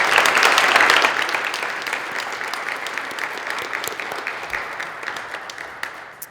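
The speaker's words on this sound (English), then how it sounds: "Let's give them a round of applause." An audience at a college career and technical commencement ceremony applauds the college employees, a dense, steady wash of many hands clapping that swells loudest at first and then gradually thins and fades.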